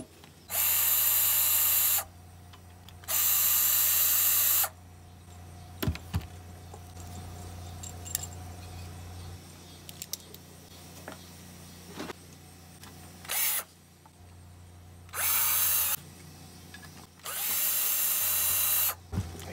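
A power tool whirs in loud bursts of a couple of seconds each while loosening gas tube fittings on a push mower being torn down for scrap, with metallic clinks and ratcheting between bursts.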